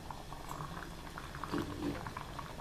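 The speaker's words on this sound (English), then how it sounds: "I can hear that we got a rolling boil" Water reaches a rolling boil in a metal canteen cup while taco rice cooks outdoors, a faint steady bubbling with soft gurgles and a brief louder burble midway.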